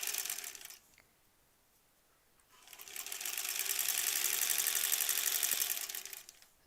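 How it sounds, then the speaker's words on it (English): A sewing machine runs steadily while stitching granny square quilt pieces, its motor and needle whirring close and loud after a short pause and brief quieter start, with no talking over it. "then we're going to sew, keeping my edges lined up"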